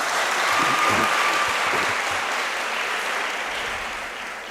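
Students at a Department of Modern Languages 60th anniversary colloquium clap for themselves, a full, steady round of applause that holds strong and then slowly fades toward the end.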